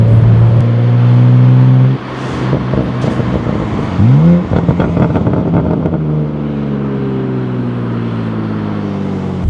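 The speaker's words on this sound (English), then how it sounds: "Let's do Sport and get a couple of pulls in there as well." BMW G87 M2 with an AWE SwitchPath exhaust pulling hard in Sport mode, engine note climbing loud and close before a quick shift, then revving on and easing to a lower, steadier drone.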